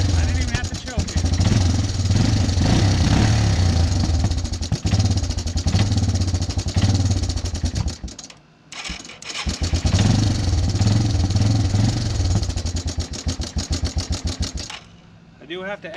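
A Yamaha Timberwolf quad engine running after its carburetor was cleaned and refitted, a loud rough idle with clattering pulses that briefly drops out and picks back up; speech is heard over it.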